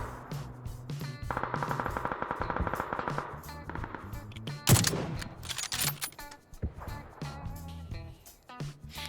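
Automatic gunfire in the PUBG video game rattles in rapid bursts with a louder crack midway, mixed with game sounds and occasional voices.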